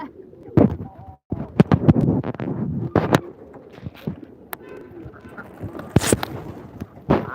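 Domestic ducks quack loudly and close by in a yard with chickens and pigeons, sharp irregular bursts scattered among people talking.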